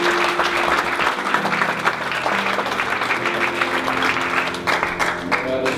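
A church congregation claps together during a Pentecostal Christmas service, dense and steady, with music tones and a voice underneath.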